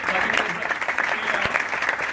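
An audience claps at an Amway India speech event, a dense burst of applause from a moderate crowd that stays fairly even throughout, with some voices mixed in.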